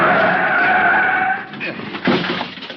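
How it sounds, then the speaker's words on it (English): A car braking hard and skidding to a stop against a curb in an old-time radio drama, a long loud tyre squeal that fades out, followed by brief thumps, with voices around it. "The other driver had jammed on his brakes and finally skidded to a stop against the curb"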